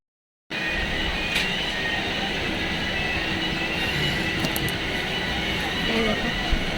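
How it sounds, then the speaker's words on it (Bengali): A passenger train arrives at a station platform on a hot sunny morning, a loud, continuous rolling rumble of rail cars that starts abruptly and holds steady, with faint brief high squeals. "আর একটু পরে ট্রেন ঢুকবে।"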